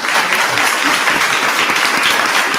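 An audience at a school committee meeting claps after a student's speech, producing dense, loud, sustained applause from many hands with no break.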